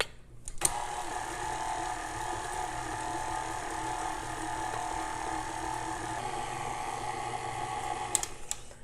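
An electric mixer whirs steadily through cookie dough being creamed with corn syrup, a continuous close motor drone that starts and stops with brief clicks, no talk.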